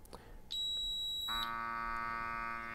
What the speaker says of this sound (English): we'll hear the alarm